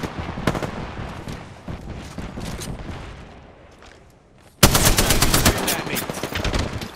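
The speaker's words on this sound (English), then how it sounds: "Knuckle clusters firing." Knuckle cluster weapon firing in a video game: bursts of rapid gunfire, loud and close, with a louder, denser volley erupting partway through.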